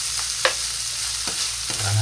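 Butter browning in a pan for spaghetti sauce, a soft continuous sizzle with a few faint scraping stirs, close and quiet, with no talking.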